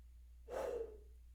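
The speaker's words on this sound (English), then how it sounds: "and then take the breath" A single quick, deep inhaled breath through an open mouth with the belly pulled in, drawn in preparation for shouted pop punk singing; a short airy gasp in a quiet room.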